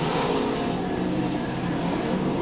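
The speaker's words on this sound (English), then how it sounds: "the 44 car of Panisic slowly rolling, now gathers it back up and continues on" Race cars circling the Albany-Saratoga speedway, one car slowly rolling on the front stretch, with a steady, loud engine drone and revving that holds throughout without pause.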